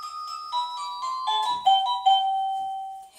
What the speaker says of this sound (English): So you've got kind of like a clock chime sound.